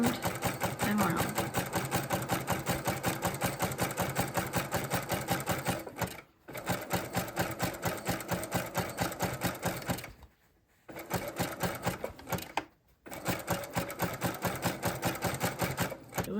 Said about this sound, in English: hold it as flat as you can as you stitch around